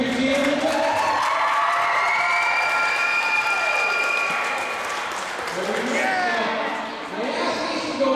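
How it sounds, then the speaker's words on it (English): A crowd of East team fans cheering and shouting loudly, a sustained wall of yelling voices that dips briefly partway through, then swells again. "Can you guys cheer for your team a little bit?"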